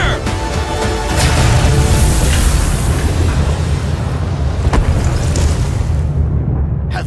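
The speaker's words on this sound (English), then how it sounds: "Preparing to fire main cannon! Powering up!" Main cannon blast in the video game Sand Land, a loud, sustained rumbling roar of explosion and eruption that fills the whole stretch, with a sharp crack partway through before fading out.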